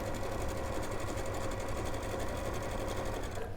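A sewing machine stitches applique on a quilted flower wall hanging, its needle running in a steady, fast mechanical whir that holds evenly throughout and eases off at the very end.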